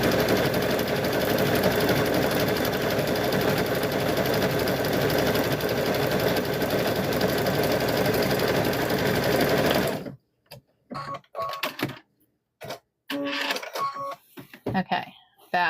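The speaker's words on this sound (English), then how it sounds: "So we're going to see what it turns out like after we get it all stitched here." A sewing machine stitching a quilt square runs in a fast, steady mechanical whir for about ten seconds, then stops, followed by a person speaking in short phrases.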